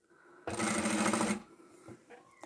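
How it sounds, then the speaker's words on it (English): A sewing machine runs a short burst stitching the lining seam of a bridesmaid dress, a loud close whirring rattle lasting under a second before stopping, followed by faint handling noises. "You want to sew really close to the stitching line, but not on the outside of the dress."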